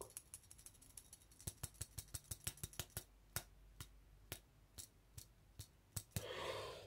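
A modified ice-fishing knocker lure for burbot clicks in a quick series of sharp, close taps, irregularly spaced and uneven in strength, ending in a short burst of hiss.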